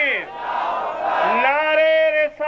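A large religious gathering answers the Nara-e-Takbeer slogan with a loud, unified chanted response from many voices, rising and sustained for a couple of seconds before cutting off.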